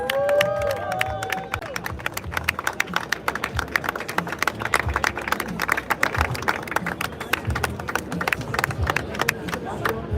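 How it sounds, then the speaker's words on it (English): Crowd at a MotoGP event clapping and cheering, dense rapid claps over a roar of voices with some shouts, loud and sustained, with a few sung or called tones early on. "An applause, please."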